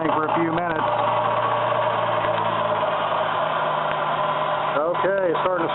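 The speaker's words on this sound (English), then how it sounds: "It's running kind of rough" A car engine idles with a low, uneven rumble right after an engine transplant while people talk over it.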